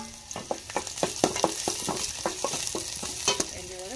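Ginger and garlic fry in hot oil for a soup, with a steady sizzle under repeated sharp scraping and tapping from stirring, close and moderately quiet.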